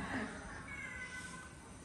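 A short, quiet cat meow rises and fades near the start, then soft indoor room noise for the rest of the brief moment.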